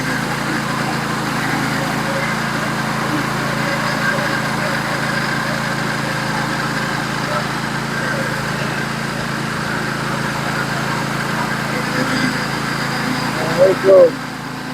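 A Norwood HD36v2 portable sawmill drives through a large log, its engine holding a steady, loud mid-pitched drone throughout with the blade grinding under load and a couple of short clunks near the end.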